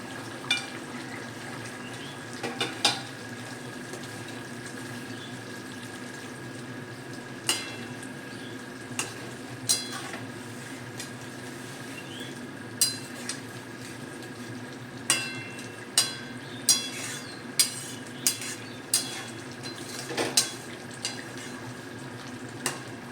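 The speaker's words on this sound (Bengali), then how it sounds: "ঝোলটা ফুটে গেছে, এবার আমি ভেজে রাখা মাছটা দিয়ে দেবো" Gravy bubbles and simmers in a pot with a steady low hiss while fried mourala fish goes in, followed by scattered clinks and taps of a utensil against the vessel, close by, with no one talking.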